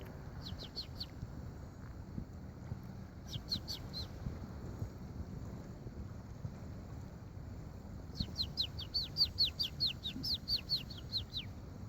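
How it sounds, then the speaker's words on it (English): Outdoors, a bird gives three bursts of quick, sharp chirping calls, the last burst longest, over a low steady rumble. "if it's a hawk or something, it's an awful big hawk"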